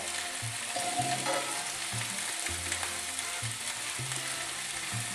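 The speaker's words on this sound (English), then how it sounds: "now you just leave it all to cook a bit in a very low heat" Steady soft sizzling of arroz con carne cooking in a pan on very low heat, a gentle continuous crackle with faint low clinks now and then, no voices.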